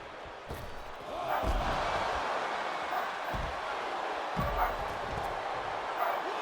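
Dogs bark in short bursts in a room during a sports commentary broadcast, several loud woofs and yips spaced over steady background noise.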